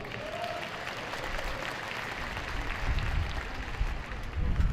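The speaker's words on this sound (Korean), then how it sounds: "박수 한번 올립시다" Crowd applause at a rally, dense and continuous, with low rumbling thumps swelling toward the end.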